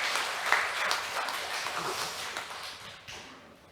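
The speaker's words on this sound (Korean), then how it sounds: "우리 크게 하나님께 영광의 박수 한번 드리겠습니다." A church congregation gives loud applause after a hymn performance during Sunday worship, a dense clapping crowd that peaks early, then gradually thins and fades.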